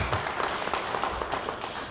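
A church congregation applauds during a sermon, a brief burst of dense, moderately loud clapping from many hands in a large room.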